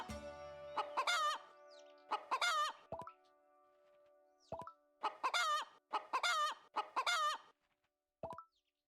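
Chickens in Ranch Store Simulator cluck and squawk in repeated clear bursts, several groups of sharp calls separated by brief silences, fairly close and alone.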